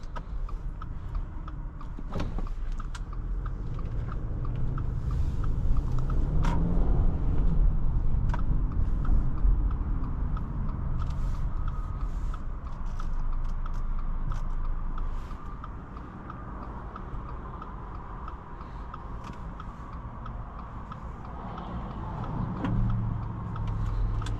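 A 2022 Subaru Forester Wilderness drives on the road, heard from inside the cabin as a steady low rumble of engine and road noise that swells while accelerating, with occasional small clicks and ticks.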